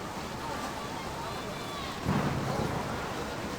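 Storm ambience in the video game trade town of Trademeet: steady hissing rain and wind fill the scene, broken about two seconds in by a low, brief rumble of thunder.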